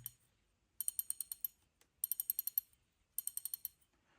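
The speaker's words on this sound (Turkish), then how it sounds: "Böyle karama sesini dinleyelim." A Daiwa Exceler LT 2000 spinning reel ratchets in three quick bursts of sharp, bright clicks, each about half a second long, heard close and alone against near silence.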